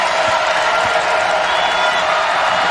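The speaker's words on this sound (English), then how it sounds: "the crowd starts to get into it" A crowd at a Purdue women's basketball game against Texas A&M roars steadily and loudly as the home team closes the gap, a dense sustained wash of cheering with no clear break.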